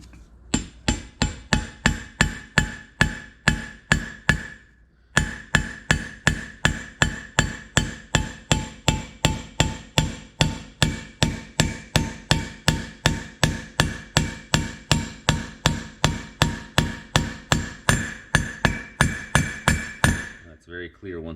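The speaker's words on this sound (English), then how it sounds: "Now, I'll just take a little hammer here" A small hammer taps a bearing race into the front brake drum of a 1965 VW Beetle, dozens of sharp metallic strikes in a steady, quick rhythm, close and ringing, with one brief pause before the tapping resumes.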